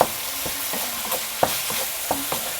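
A spoon stirs kimchi fried rice in a hot pan after kimchi juice goes in, soft scraping knocks at an irregular pace over a low steady sizzle.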